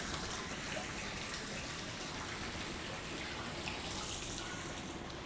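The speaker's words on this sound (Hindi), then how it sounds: "ये देखिए इसमें पानी जा रहा है, पानी गिर रहा है, लगभग आधा टैंक भरने आया" Water pours steadily from a pipe into a household storage tank, a constant loud, close gushing splash with no pauses and no voices.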